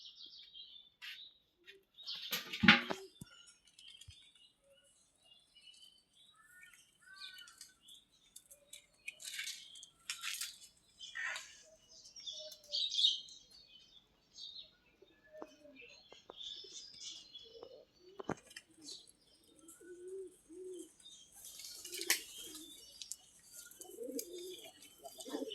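Pigeons in a backyard loft coo and flutter, soft scattered calls, chirps and brief wing flaps at low level, with faint murmured voices in the background.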